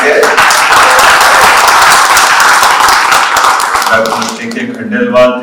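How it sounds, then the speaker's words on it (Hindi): Dense applause from an audience at a youth dialogue event in the Chief Minister's residence meeting hall, loud and sustained for several seconds, then thinning out as a voice starts speaking near the end. "ताली बजा करके।"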